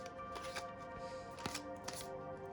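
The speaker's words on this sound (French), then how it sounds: "C'est pour battre les cartes, c'est pas facile" An Oracle Witch and God oracle card deck is shuffled by hand. Close, soft riffling and sliding of the cards comes in short bursts, quietly, with no one talking.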